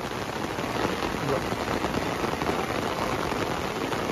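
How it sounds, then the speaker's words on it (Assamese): Steady rain falling outdoors at a polling station in Margherita on election day, a dense even hiss of drops on surfaces throughout, with faint voices in the background. "বৰষুণ আহি গ'ল"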